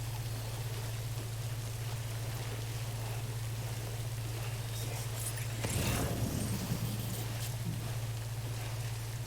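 Steady rain in the video game Death Stranding, a constant dense hiss across the whole stretch with a low hum beneath it, briefly swelling louder in a heavier gust of rainfall near the middle.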